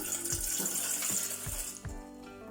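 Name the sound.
pouring water into a pot to make tea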